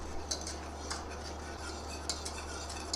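Custard powder is stirred into hot sweetened milk in a pot for sweet vermicelli, with a spoon ticking and clinking against the metal every so often over a low, steady stove hum.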